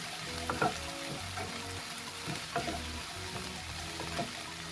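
Diced onion frying in hot oil with spluttering cumin seeds, a steady close sizzle with occasional clinks and scrapes of a spoon stirring the pan in a Goan-style okra dish.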